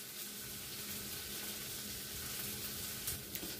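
Shrimp and vegetables sauté in a hot pan for a honey shrimp stir fry, giving a steady, close sizzling hiss with a few faint stirring clinks near the end.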